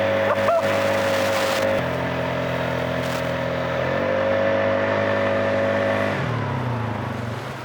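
A Polaris ATV accelerates in high gear with all-wheel drive, its engine a loud, close drone whose pitch climbs and steps through shifts before easing off at the end.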